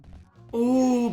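Side special attack sound effect from Super Smash Bros, a short bright tonal whoosh that bursts in suddenly after a quiet moment and holds steady for about half a second.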